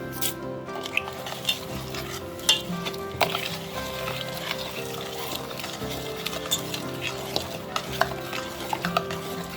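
A spoon stirs a mackerel fish curry mixture with rock salt in a pot, making scraping and clinking against the vessel in an irregular rhythm, close and moderately loud, with faint kitchen background.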